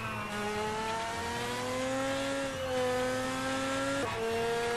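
Race car engine in the Table Top Racing: World Tour video game, a steady high whine rising and falling with gear changes and throttle over a few seconds, moderately loud and alone with no talk.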